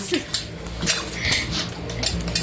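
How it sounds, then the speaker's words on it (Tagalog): A spoon stirs corn soup with cream corn and whole corn in a pot, making repeated clinks and scrapes against the metal over a low background hum, with faint voices in the room. "Yan, haluin po natin."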